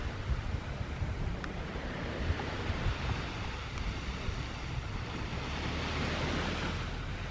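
Ocean waves on the beach at Cascais, Portugal, a continuous rushing surf with wind buffeting the microphone, swelling slightly toward the end, no voices.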